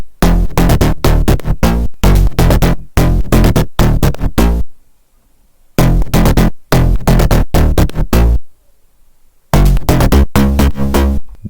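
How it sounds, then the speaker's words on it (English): Punchy synth bass pattern for a future house track, layered from GM synth presets and a mini synth with added noise, playing in loud rhythmic bursts with two short gaps of silence, no voices over it. "this is the bass pattern that plays when the chords aren't playing, and it sounds like this."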